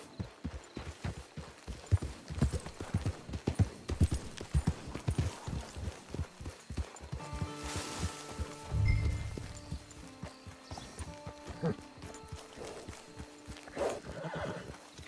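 In Red Dead Redemption 2 Online, hooves clip-clop in a steady walking rhythm, then a horse lets out a loud, close whinny, followed by snorting and quieter movement.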